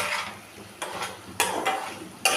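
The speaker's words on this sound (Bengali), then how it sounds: "একটু মিশিয়ে নেব" Chili garlic potatoes tossed with chili flakes, white sesame and chopped coriander, stirred in a pan with a steady sizzle and several brisk scraping strokes.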